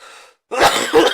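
A man coughs harshly twice in close succession, with a rough, throaty double burst right at the mic, after a short faint breath and a moment of silence.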